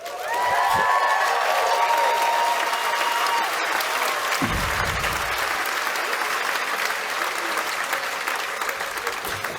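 Sustained applause from a large audience at a 2012 graduation ceremony, steady and dense clapping throughout with a brief voice near the start.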